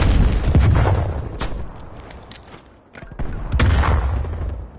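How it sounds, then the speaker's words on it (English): Grenade blasts in the shooter game Call of Duty Cold War on the Nuketown map, two heavy booming explosions with rumbling tails and gunfire bursts between them, loud and close. "Grenade."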